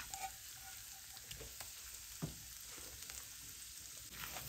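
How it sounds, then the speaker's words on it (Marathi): Turmeric and a ground spice paste for patwadi sautéing in a pan over a low flame, giving a soft, steady sizzle with faint crackles and one brief clink, heard alone without voices. "आता हळद घालून हे वाटण छान परतवून घ्यायचंय"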